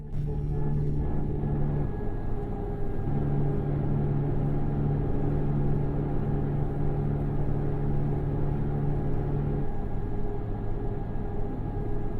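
Truck engine in Euro Truck Simulator 2 easing off speed, a steady low rumbling drone with a sustained hum, continuous and fairly loud with no talk.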